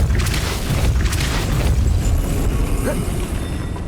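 A Depulso spell cast in Hogwarts Legacy on Nintendo Switch lands as a loud, deep booming burst, a low rumbling blast that stays heavy and sustained for several seconds.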